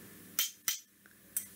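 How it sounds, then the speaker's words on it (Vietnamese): Two rulers knocked together in a classroom, giving three sharp, bright clicks spaced apart, with a fainter tick between the second and third, close and clear against a quiet room. "cô có hai cái thước, cô sẽ gõ vào nhau"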